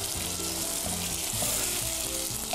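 Tomato hits a hot pan and sets off a steady, close sizzle of frying that runs unbroken through the moment, with no voices over it.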